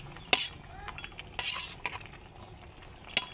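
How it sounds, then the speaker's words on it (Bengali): Fish heads going into a pot of mustard drumstick curry, with a few sharp metallic clinks and scraping bursts from a utensil against the pot over a low simmering background, no speech. "মাছের মাথাগুলি দিয়ে দিচ্ছি"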